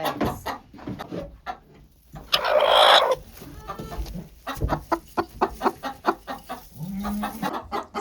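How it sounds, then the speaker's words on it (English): Many chickens cluck and squawk inside a coop, with close, busy chatter, a loud flurry of squawking partway through and steady background noise. "We have a lot of chickens."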